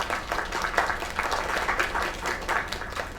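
Video game crowd applause follows a young singer's performance by a lake, a sustained, even wash of many clapping hands at moderate loudness with a low rumble underneath.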